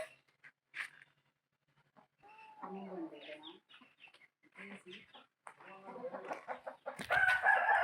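Chickens on a farm cluck and call intermittently at a moderate distance, with a rooster-like crow rising near the end, amid quiet gaps.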